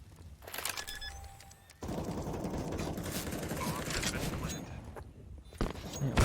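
Gunfire in Counter-Strike: Global Offensive during a competitive match, with sharp rapid shots and a burst of sustained fire, mixed with game mechanics and a commentator's voice.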